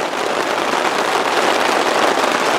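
Heavy rain drumming on a tarp at a mountain campsite, a dense, loud, unbroken patter of drops that fills the whole moment with no voices heard.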